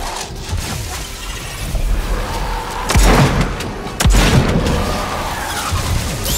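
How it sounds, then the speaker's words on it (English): Gunshots fired at pylons in the video game Daymare 1994: Sandcastle: two loud, sharp blasts about a second apart over a dense, rumbling game soundscape. "I need to shoot those pylons"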